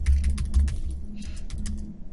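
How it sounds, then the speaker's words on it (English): Keys clack in quick irregular bursts on a computer keyboard, close and distinct, as someone types a short note with a few pauses. "Oh, bad typing."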